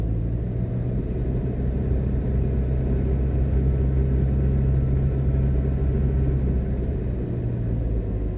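Inside a car driving slowly through a newly built gated neighbourhood in Jamaica, a constant deep engine and road rumble runs unbroken throughout with no talking.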